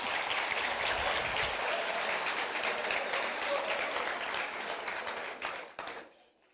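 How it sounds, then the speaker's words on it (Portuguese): A roomful of people applauding for Tom after a group exercise, sustained thick clapping at close range that thins out and stops near the end. "uma salva de palmas para o Tom"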